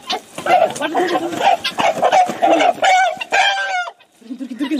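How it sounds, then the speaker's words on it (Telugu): Chickens, including big hens, cluck and squawk loudly and repeatedly as people chase and grab them by hand, with excited talking and shouting over the birds throughout. "పెద్ద కోళ్ళు దొరికిరా"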